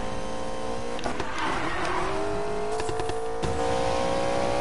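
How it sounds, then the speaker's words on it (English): Racing cars speeding in a video game, including a GTR, a continuous engine whine with shifting pitch and a few brief bursts of extra noise, loud and close throughout, with no voices. "This might be Holtzman or it might be the GTR. Oh, it's the GTR."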